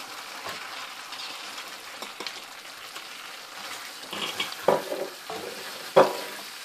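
Vegetables frying in butter in a pan for pulao, a soft steady sizzle with occasional sharper taps and scrapes of stirring, fairly quiet and near.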